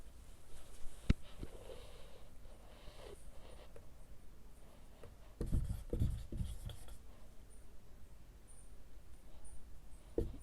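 Writing on a board during a calculus maths lesson makes faint, intermittent scratchy strokes with a few sharper taps, heard alone in a quiet room.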